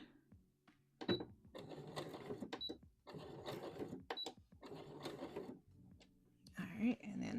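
A home sewing machine stitching fabric for a wrap dress runs in several short mechanical bursts separated by pauses, backstitching a couple of stitches, with soft clicks between runs.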